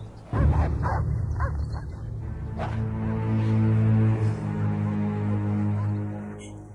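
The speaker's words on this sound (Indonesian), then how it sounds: "Anjing menggonggong." Several dogs bark and yelp close by in quick, overlapping bursts, then settle into sustained, howling whines that carry on to the end.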